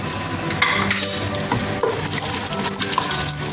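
Onion and spices, including red chilli and turmeric, sizzle and fry in a pan for kadhi pakora, with a steady dense crackle throughout and a few brief clinks of stirring.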